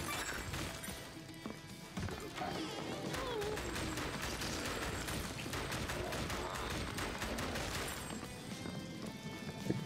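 Rapid, dense gunfire from the Nintendo Switch House of the Dead Remake rail shooter, sharp repeated shots and impacts running continuously over game noise with no pauses.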